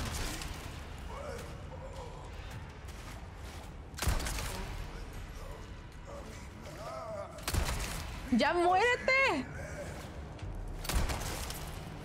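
Sharp gunshots from the video game Resident Evil 4 Separate Ways burst out three times at intervals during a boss fight, with voices talking over them and chirpy electronic effects.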